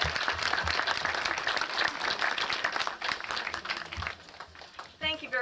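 Audience applause at a ceremony, dense continuous clapping from a crowd filling the whole stretch, fairly distant and soft, with a voice starting to speak near the end.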